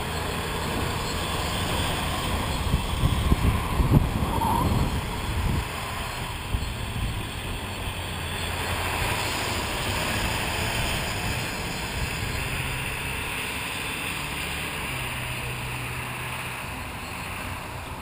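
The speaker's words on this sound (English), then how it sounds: "Holy wind!" Strong wind roars and buffets against the microphone outdoors while an RC multirotor is flown on a windy day, with a steady loud rumble and gusty swells and no voices.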